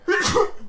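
A single sharp sneeze bursts out close and loud, overlapping a person speaking.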